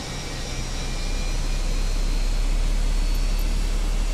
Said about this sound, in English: Hear that beautiful engine 2 starting up.